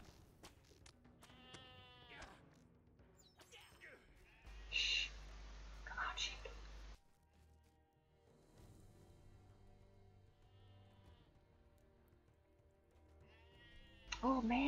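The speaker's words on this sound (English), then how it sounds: "Look at those sheep." Several sheep in a video game bleat in short, quavering calls, one near the start and another louder one at the end, amid soft talk and intermittent bursts of game noise.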